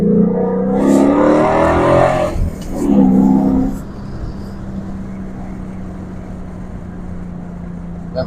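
A 2019 Ford Mustang 5.0 with a manual gearbox pulls hard, its engine note rising in two brief surges with a gear change between, then easing into a steady low drone.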